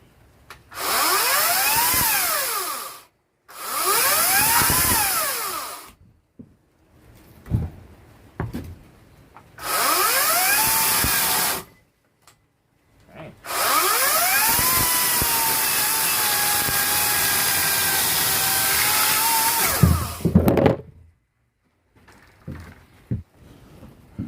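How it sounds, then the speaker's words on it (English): A small Ryobi 18-inch 40-volt brushless cordless electric chainsaw revs up and cuts wood in several bursts of whining motor noise, the longest a sustained cut, separated by short pauses. "Let's see how this chainsaw works."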